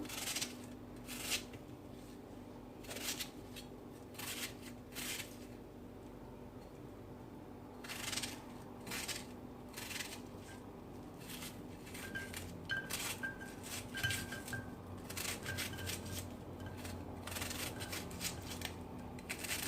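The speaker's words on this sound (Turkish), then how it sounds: "Şimdi soğanımı doğramaya başlıyorum." A knife chops a medium onion finely on a cutting board, quick repeated taps in bursts with brief pauses, close and fairly quiet.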